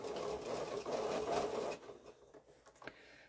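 Stitching a seam in quilt fabric, a sewing machine hums close and steady for a couple of seconds, then slows and stops with a few faint clicks.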